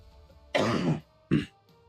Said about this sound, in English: that cough came out of nowhere